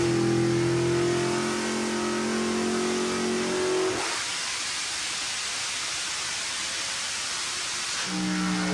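Engine revving hard on a dyno during a pull on a truck nicknamed Hulk, a loud sustained roar that climbs steadily, drops off abruptly midway into broadband rushing noise, then rises again near the end, with no talk.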